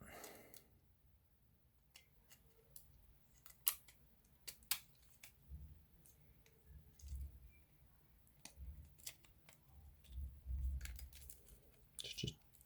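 Plastic Nintendo Switch Joy-Con shell being pressed back together after a replacement, a string of small snaps, clicks and creaks spread unevenly over soft handling noise and low rumble.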